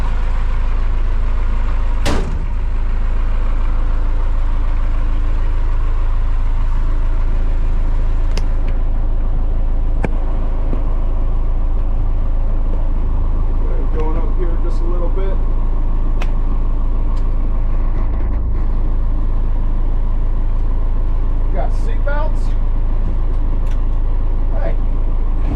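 A Ford Bronco with a swapped-in Cummins diesel engine is being driven, giving a steady low diesel rumble throughout. There are occasional clicks and knocks and a few brief spoken words over it.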